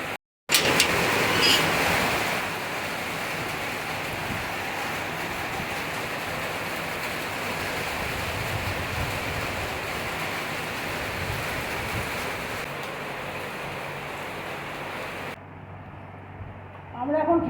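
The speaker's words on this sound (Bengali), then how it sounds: "আপনাকে আবার বৃষ্টিটা দেখাই।" Heavy monsoon rain pours down steadily outside a home, a loud dense hiss filling the whole stretch before abruptly cutting to quieter room sound near the end.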